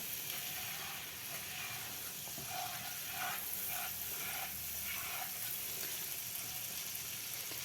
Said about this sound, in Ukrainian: І теж прожарюємо їх декілька секунд, щоб розкрити аромат спецій.